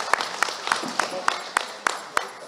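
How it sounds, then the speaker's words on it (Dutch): Evenly spaced, sharp claps ring out at a steady rhythm at a cultural certificate ceremony, sounding like a small group clapping in unison for the women who made their own wines, with some voices underneath. "ik zou graag een applaus voor die dames willen hebben"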